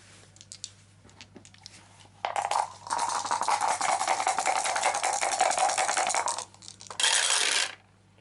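Four dice roll for a board game melee attack, a soft tap or two followed by a long stretch of loud, close rattling and clattering, a short pause, then a final burst of clatter.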